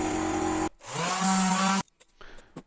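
A power sander whirs loudly against pressed wood board in two bursts, then cuts off, leaving faint tapping.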